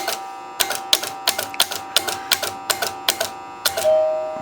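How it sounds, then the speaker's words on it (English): A 1976 Chicago Coin Cinema pinball machine being tested, its weak bell or score mechanism struck in a regular series of about a dozen sharp metallic clacks, close and fairly loud, ending with a brief ringing tone. "Bell's kind of wimpy."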